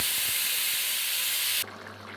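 Vegetables for a raw banana and potato dish with prawns going into a hot pan of fried cumin: a loud, close, steady sizzling hiss with a few soft knocks, then an abrupt drop to a quieter simmer near the end.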